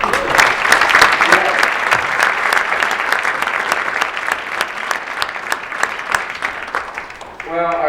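An audience at an MLK Day celebration bursts into loud, sustained applause, dense clapping from a large room that carries on steadily before tapering near the end, with a voice speaking briefly over it.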